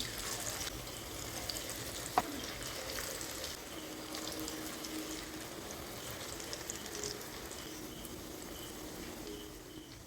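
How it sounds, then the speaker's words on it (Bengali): Onion pakoras (piyaju) dropped one by one into very hot oil fry with a steady, fine, crackling hiss, close and moderately loud, with one brief sharp click early on. "এখন একে একে পকোড়া তেলের মধ্যে দিয়ে দিচ্ছি।"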